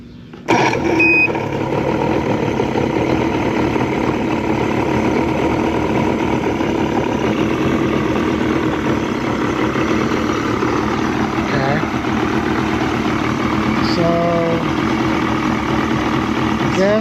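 A Johnson Evinrude 60 hp outboard engine runs steadily throughout with a constant mechanical drone, with brief clicks and a tone near the middle and end.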